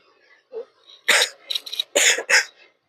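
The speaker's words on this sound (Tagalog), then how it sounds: "inuubo pa siya" A person coughs in a quick cluster of harsh, fairly close bursts over a couple of seconds, with a soft murmur just before them while gifted pajamas are being unboxed.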